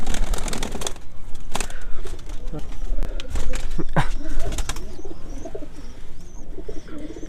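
Pigeons coo while being given water on a rooftop, their low calls mixed with sharp tapping clicks, handling noises and a voice nearby.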